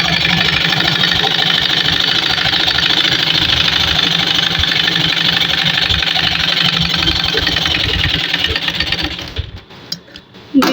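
An electric sewing machine runs steadily, stitching the side seams of a simple pajama. The motor hums continuously and close for about nine seconds, then stops abruptly, leaving a few faint clicks.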